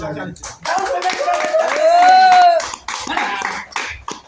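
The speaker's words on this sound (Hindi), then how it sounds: "ताली बजाइए" Audience clapping at a Hindi business-plan presentation, a run of quick claps from a small group, close, mixed with a voice speaking over them.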